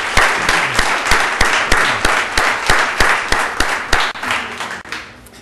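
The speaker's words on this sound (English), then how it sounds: "So please give Fartoon a round of applause." A community gathering's audience claps for an honoree, a lively applause with a clear pulsing rhythm of strong synchronized claps over a bed of scattered hand claps, fading a little at the close.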